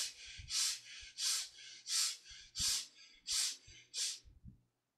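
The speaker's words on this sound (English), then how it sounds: "Ribcage means you inhale through both the nostrils and expand the chest." Someone does ribcage breathing, drawing quick forceful breaths in and out through both nostrils: seven evenly spaced nasal rushes, close and clear, that stop into silence.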